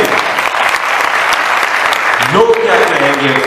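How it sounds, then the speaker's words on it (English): Applause from a TEDx audience during a motivational talk, dense steady clapping filling the hall, with a voice starting to speak over it near the end. "Clapping."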